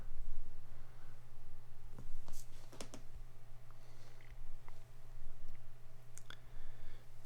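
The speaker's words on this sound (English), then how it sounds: "getting used to typing on this thing." Sparse, irregular keyboard clicks and taps over a steady low electrical hum, with a few sharper clacks clustered near the middle.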